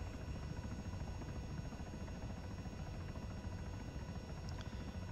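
A CH-67 Huron helicopter in the video game ARMA 3 produces a steady, loud engine and rotor drone throughout, dense and unbroken, with no talking.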